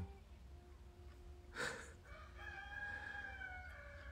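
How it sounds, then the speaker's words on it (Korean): A rooster crows at one in the afternoon through an open window, a single drawn-out call heard at a moderate distance and fairly faint, trailing off over a low background hum. "왜 오후 1시에 수탉이 저렇게 우는겨?"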